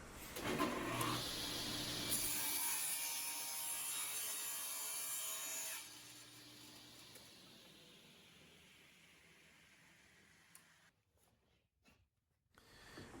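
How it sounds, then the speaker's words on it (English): Table saw ripping a wooden board down narrower in a wood shop: a loud close whine of the blade through the wood for several seconds, then the motor winding down and fading, with a few clunks at the end. "here I'm ripping down one of the boards a little bit narrower"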